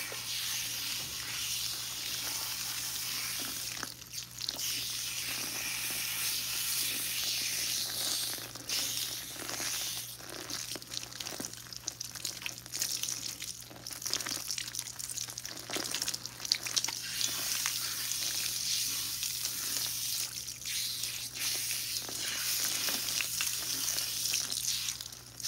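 Water streams steadily from a shower over hair, rinsing out biotin volumizing shampoo, a constant close hiss of spray lasting throughout with small fluctuations and no talking.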